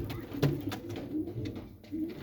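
King pigeons coo softly while preparing their nest, a few low rolling calls close by amid faint background noise.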